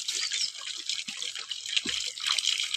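Water splashes and trickles over a white shirt as it is wetted by hand before detergent is added, a steady close wash of liquid with small drips and gushes throughout.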